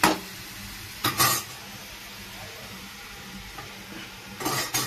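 A beans and tomato curry cooks in a pan on a home stove with a steady soft sizzle, while a metal spoon stirs and scrapes against the pan in a few sharp clatters.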